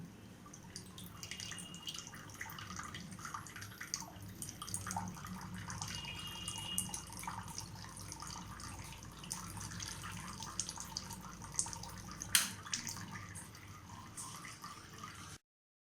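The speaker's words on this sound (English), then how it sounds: "Now turn on the machine and collect water coming from RO membrane." A steady stream of water runs and splashes continuously from the RO membrane outlet of a Kent RO water purifier, with a few brighter drips and one sharp clink partway through.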